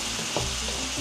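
Chicken sautéing in a pan, a steady close sizzle with faint stirring clatter and no voices over it.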